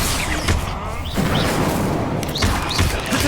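Spell blasts from the Hogwarts Legacy video game, Incendio and Confringo, burst out as loud crackling booms over a busy, dense game mix, with several whooshing casts and impacts packed close together.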